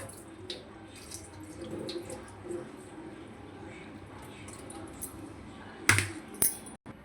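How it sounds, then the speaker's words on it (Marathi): Soaked chickpeas are rinsed in clean water in a kitchen. Soft sloshing and trickling run throughout, and a sharp clatter of vessels near the end rises briefly above the faint background. "परत अजून एकदा स्वच्छ पाण्याने धुवून घेतले."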